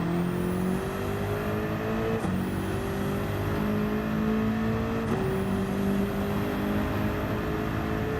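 A car engine in Gran Turismo 7 revs and accelerates steadily through several upshifts, with the pitch climbing, dropping at each gear change and climbing again, loud and continuous with no talking.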